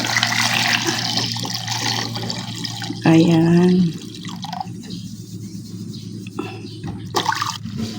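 Cooled salted water is poured into a container for making salted eggs, with a sustained splashing pour under a person talking and a brief, louder rush of liquid midway.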